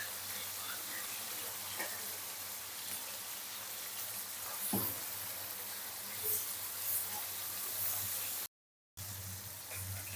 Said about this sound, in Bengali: মাছগুলো সুন্দর করে ভাজা হয়ে গেছে